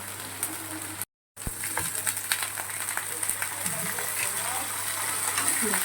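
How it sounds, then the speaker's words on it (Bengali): Steady sizzling of ground spice paste frying in a pan for a Bengali dish, with scattered crackles and a brief dropout near the start; no talking. "মশলাটা একটু কষাবো, তারপরে বাকি দেবো।"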